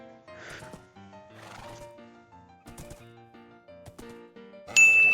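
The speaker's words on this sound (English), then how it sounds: "now that we got ourselves a horse, and he's a pretty fast horse" Horse in the game Steampunk Survival giving repeated whinnies and neighs, a few close bursts spread across a few seconds, with a brighter metallic chime at the end.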